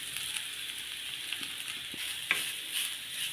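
Grated coconut frying in ghee in a pan, a soft steady sizzle with faint stirring scrapes and one brief sharper clink near the end, close and quiet.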